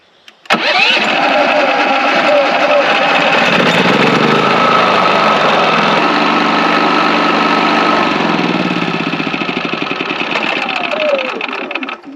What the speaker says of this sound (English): you may have to pull start it once to get it going.